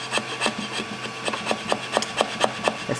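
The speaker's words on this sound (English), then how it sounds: "Someone said to scrape off ABS." Scraper rasping an ABS print off a hot 3D printer bed, with repeated rhythmic scrapes of roughly even strength, close and alone.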